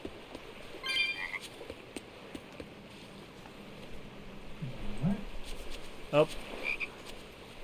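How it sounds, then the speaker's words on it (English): A frog croaks in the video game Tales of Berseria, in a port setting near the sea. A couple of short, close croaks ring out over soft outdoor ambience, and a brief voiced exclamation is also heard. "Look! A frog! It's unusual to see one this close to the sea."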